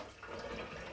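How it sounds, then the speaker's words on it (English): Water runs from a tap in a laundry cabinet, a steady close hiss and splash filling the whole moment at even loudness. "Got water coming out the tap."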